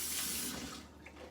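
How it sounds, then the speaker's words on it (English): Kitchen tap water running steadily over hands being washed, a close, even splashing hiss that softens toward the end with a small knock, no talk. "Let me wash my hands again."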